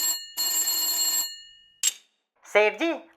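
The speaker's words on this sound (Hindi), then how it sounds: "एक बार फिर फोन की घंटी बजती है।" An old-style telephone bell rings in a cartoon scene: a short ring, then a longer sustained ring, a brief chime, and finally a voice speaks.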